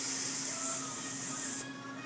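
Compressed air hisses loudly and steadily from a truck's air brake system, then cuts off sharply near the end, leaving a quieter background.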